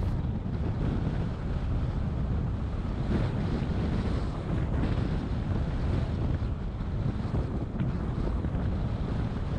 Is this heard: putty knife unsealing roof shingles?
no